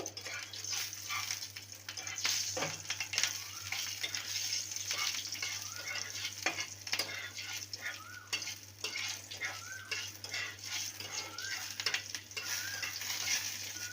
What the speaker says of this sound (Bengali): ফোড়নে দেব হাফ স্পুন রাঁধুনি আর দুটো কাঁচা লঙ্কা ফোড়নটাকে ভেজে নেব